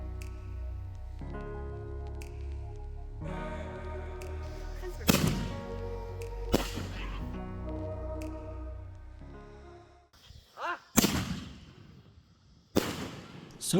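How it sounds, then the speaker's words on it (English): Fireworks launched on a July 4th outing, with several sharp, loud bangs and crackling bursts spaced irregularly over a low motor hum, some close and ringing. "And my nephew will be launching the fireworks."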